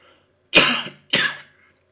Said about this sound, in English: Random coughing fit.